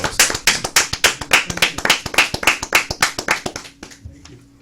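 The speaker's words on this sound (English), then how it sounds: "I would like to get a round of applause to them too." Audience at a civil rights organization's gathering applauding, a steady run of close, crisp hand claps that thins out and stops near the end, no speech over it.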